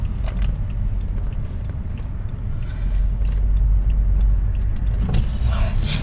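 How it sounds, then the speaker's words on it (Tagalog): Busy road traffic with many cars passing close by, a continuous loud rumble of engines and tires that swells in the middle, with no talk over it. "Ang daming sasakyan."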